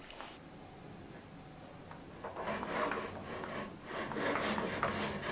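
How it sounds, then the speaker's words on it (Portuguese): A hand saw cuts through wood in steady oscillating strokes, producing a rhythmic rasping that grows louder partway through, close up and with no talking. "faça movimentos oscilantes nesse sentido, para que você consiga pegar o máximo de dentes na madeira"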